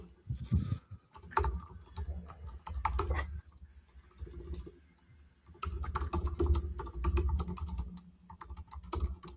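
Someone types on a computer keyboard nearby, with clusters of quick clicking keystrokes separated by short pauses.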